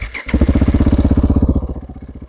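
A 2015 KTM 690 SMC R motorcycle with an Akrapovic exhaust and about 9,400 miles cranks and catches, then settles into a loud, close, rhythmic idle.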